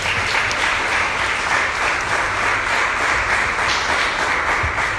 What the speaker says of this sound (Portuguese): Você pode aplaudir por esses homens de Deus